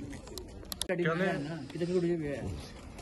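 Soft, low pigeon coos repeat in a rolling rhythm, nearby, at a pigeon show, with someone talking over part of it.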